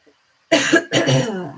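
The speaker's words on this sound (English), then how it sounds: "I'm so sorry for the coughing." A single close, harsh cough bursts out in two quick spasms after a brief silence, loud and dry against an otherwise quiet room.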